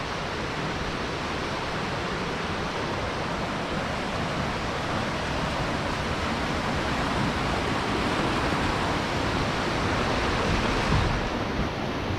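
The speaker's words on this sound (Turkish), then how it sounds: "Evet arkadaşlar şelaleye geldik. Su düşen şelalesi." The Su Düşen waterfall roars as a steady, dense wash of falling water, loud and unbroken throughout with no voices.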